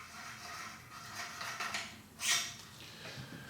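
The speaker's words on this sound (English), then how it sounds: "You screw out your choke." A choke tube is unscrewed from an over-under shotgun barrel with faint metallic scraping and clicking, capped by one brighter metal clink near the end, all close-up and quiet.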